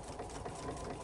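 A sewing machine stitches slowly around a curve on a fitted fabric face mask made with a tea towel filter, giving a quiet, even mechanical whirring with no talking.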